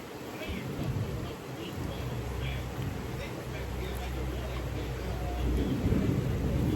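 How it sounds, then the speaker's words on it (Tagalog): Heavy rain with rolling thunder during a downpour at home, a steady wash of broadband noise under a low rumble, with people talking over it throughout. "Lakas ng ulan."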